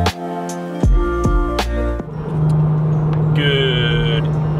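A Porsche 911 cruising down an open highway gives a steady engine and road rumble, with sharp tonal sounds in the opening seconds and a constant drone after that.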